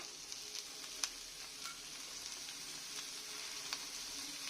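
Lentils and leafy greens fry together in a pan for a red-spinach dish, giving a steady soft sizzle with a few faint clinks of stirring, heard alone at low volume.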